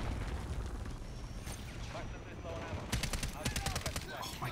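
Gunfire in Call of Duty MW3 with a BAS-B rifle, a muffled rumbling battle followed by a series of sharp rapid shots near the end, with a voice talking over it.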